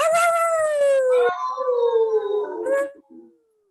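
A person imitates a dog howling with one long, loud, wavering howl that glides slowly downward in pitch before fading out, with nothing else underneath.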